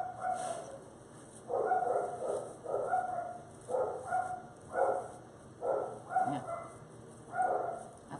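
Several dogs bark repeatedly in a home, rhythmic bursts of barking about every half second to a second, moderately distant and fairly faint, with no talk over them.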